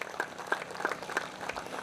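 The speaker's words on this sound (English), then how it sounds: "I want you to give all of the people of St. Martin a round of applause" A small crowd in St. Martin gives a faint, sparse round of applause, a handful of scattered claps heard distantly for under two seconds.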